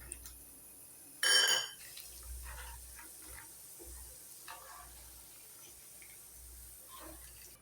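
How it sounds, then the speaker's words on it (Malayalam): Chickpeas roast in a pan for Kerala-style mixture snack with a quiet, steady sizzle, broken early by a short loud clatter, then soft stirring sounds. "ഇതിൽ നീലക്കടല വറുത്തെടുക്കാം"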